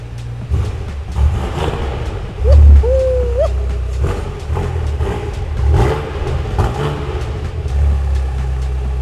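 A BMW M6 engine idles in a workshop and is blipped once, a short loud rise in revs that falls back to a rumbling idle, with clanks and faint background noise around it.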